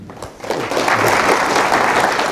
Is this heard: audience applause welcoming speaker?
yes